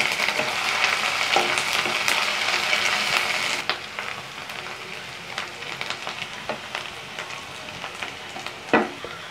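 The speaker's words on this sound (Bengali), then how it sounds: "আদা রসুনটাকে আমি আবার ভালোভাবে ভেজে নেব।" Ginger-garlic paste sizzles and fries in a pan for a chicken liver kosa, a loud steady crackle for the first few seconds, then quieter with scattered spatters and stirring scrapes.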